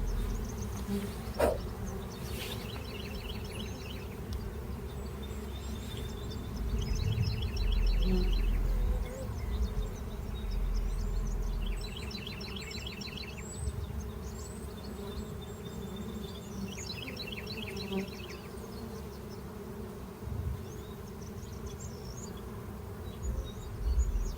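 Honeybees buzz steadily around a hive outdoors as a solar eclipse dims the light, a dense insect drone with higher whining passes of individual bees flying near, under quiet ambient noise and without speech.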